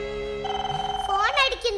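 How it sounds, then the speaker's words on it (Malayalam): A telephone rings loudly and close in a movie scene, giving a quick rhythmic warbling bell trill followed by a rising electronic tone, with a voice briefly audible. "ഫോൺ അടിക്കുന്നു."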